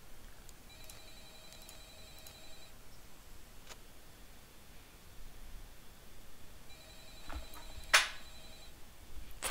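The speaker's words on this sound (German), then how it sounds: "Wo zum Henker hat es eigentlich ein Telefon?" A telephone ringing in the video game Five Nights at Freddy's, repeated faint electronic rings in two bursts with a sharper click between them, distant and quiet against a low background hiss.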